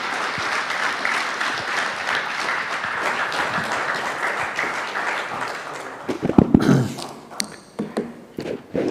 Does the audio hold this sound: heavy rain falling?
no